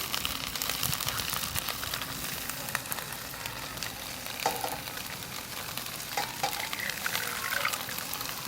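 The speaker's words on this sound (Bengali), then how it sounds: "মশলা দাও, জলটা দিয়ে দেবো।" Water poured into a pan of eggs and spices over heat, a steady sizzling and liquid wash continuing throughout with small splashes and stirring clinks, close and moderately loud, no voices.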